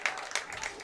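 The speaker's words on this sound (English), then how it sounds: "look at Deering, they're clapping to the crowd" Scattered applause at a high school varsity boys' soccer game as players clap toward the crowd after the match, light, somewhat distant claps with soft crowd murmur.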